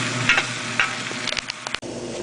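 Vegetables sizzle steadily in a hot pot while being stirred for a pot roast stew, with a continuous frying hiss broken by several sharp scraping and clattering stirs, close and moderately loud, with no talking.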